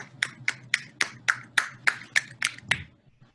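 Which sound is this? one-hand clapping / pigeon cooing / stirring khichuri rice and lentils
one-hand clapping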